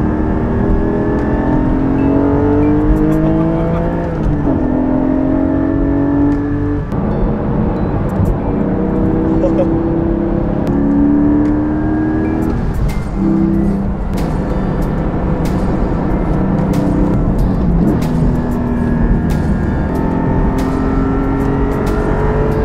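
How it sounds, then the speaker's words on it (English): Car engine revving and accelerating through repeated gear changes, a loud close rising-and-falling drone that climbs in pitch, drops at each shift and builds again over about twenty seconds, with no talk. "He's gonna take me for a rip in my dream car"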